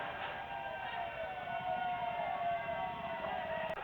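Police vehicle siren during street unrest in Mangaluru, a sustained wavering wail holding a steady pitch with a slow downward glide, continuous and moderately loud over a dense background roar, with no talking.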